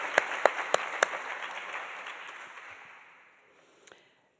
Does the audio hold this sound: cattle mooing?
no